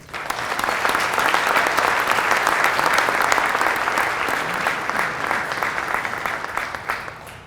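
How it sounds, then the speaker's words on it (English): Audience applause at a 2022 Hall of Fame and Hall of Honors induction ceremony: a large crowd claps steadily and evenly for about seven seconds, with no break, tapering slightly at the end. "How about a nice round of applause?"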